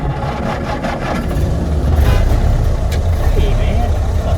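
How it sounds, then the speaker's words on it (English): Engine of a 1926 fuel truck revving during a test drive, a steady low rumble that rises and stays loud and close while people talk over it. "Let's give it a little gas."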